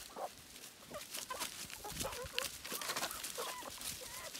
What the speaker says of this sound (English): This is my mama hen, and these are her babies that are like grown now.